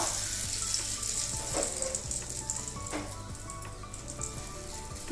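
Loud, continuous sizzling of a hot oil tempering poured into ginger chutney, with crackling pops and a few clinks, no talking.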